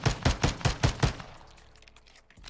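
Rapid-fire weapon shooting in a video game, a quick burst of about six evenly spaced shots that stops abruptly, followed by a fading tail and near quiet.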